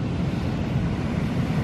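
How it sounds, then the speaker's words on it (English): Ocean surf washing over volcanic rock around a small tide pond on a Hawaiian shore: a steady, dense roar of splashing water and wind, moderately loud and continuous, with no voices. "Hopefully the waves splashing back up over here."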